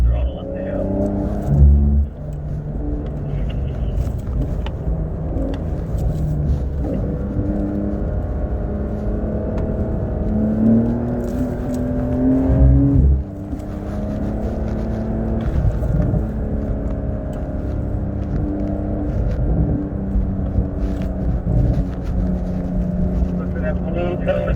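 A Porsche engine pulling hard uphill on a driving course, a loud steady droning roar with rising whine at close range throughout, briefly dipping and building again, while a person talks over it.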